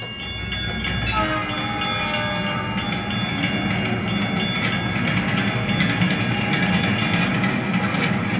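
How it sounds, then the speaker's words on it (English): Simulated railroad crossing sound effects: a steady loud rumble and clatter of a passing train with horn-like tones, continuous and close throughout. "let's just kind of simulate a crossing gate triggered with a train driving by"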